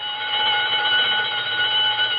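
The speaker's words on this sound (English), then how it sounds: "That burglar alarm on Bernstein's first door. It always goes haywire at 7:32" A burglar alarm on a door rings continuously as an old-time radio comedy sound effect, a loud, steady electric bell clangour with no break and no voices.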